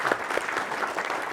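Audience applause at a talk, a short, steady patter of many hands clapping together in a room, even and continuous through the brief moment.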